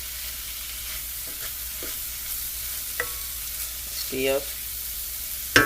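A faint, steady sizzle of food frying in a pan, with occasional scraping clicks and a brief spoken word.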